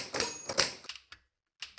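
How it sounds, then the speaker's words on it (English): An antique Oliver visible-print typewriter, about 130 years old, clacks out a few sharp, close keystrokes with a metallic ring, then falls quiet before one more strike. "This machine was the first visible print typewriter, which means the typist could actually see the text while it was being entered."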